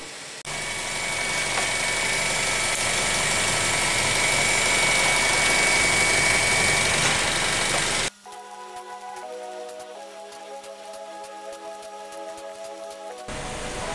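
A Mazda 3 engine idles steadily and fairly loud with a newly installed serpentine belt, a smooth continuous hum that drops abruptly partway through to a quieter tonal drone before cutting off.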